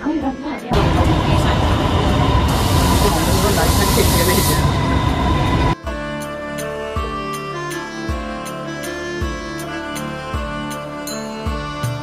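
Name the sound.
Bangkok MRT metro train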